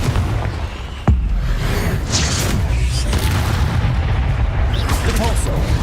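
In the video game Hogwarts Legacy, the Confringo explosion spell lands with one sharp, heavy boom about a second in, over dense, continuous rumbling battle noise.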